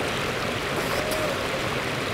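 Water moving and swishing steadily as a person wades in a golf course lake, a continuous close rushing wash with no talk.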